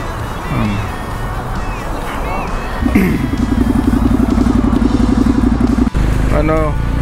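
A Ducati motorcycle engine idles with a rapid, steady pulsing rumble, starting partway through over background street noise and distant voices.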